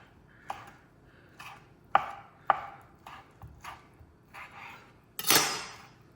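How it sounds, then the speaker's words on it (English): A knife chops through cooked sausages on a board for curried sausages, with about nine crisp, evenly spaced cuts, up close and alone, ending in a louder clattering scrape. "Now we want to cut these into nice little slices like this."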